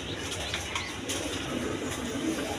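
A pair of Danish pigeons cooing softly in a loft, low murmuring coos with a brief wing flutter over steady background noise, faint and short.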